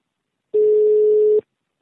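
A single steady electronic telephone call tone sounds clearly for just under a second against silence.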